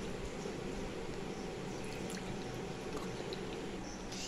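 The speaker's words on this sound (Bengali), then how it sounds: "দেখো, আমি ভালো করে ধুয়ে নিচ্ছি" Water pours and splashes steadily in a bowl as food is rinsed by hand, a continuous close wet wash with small drips throughout.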